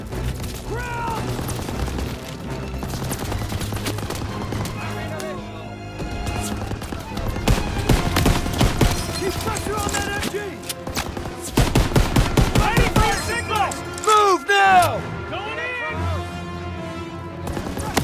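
Machine gun fire in the World War II shooter Call of Duty: WWII, attacking an MG pillbox bunker, with dense bursts and booms layered over music and in-game shouting throughout.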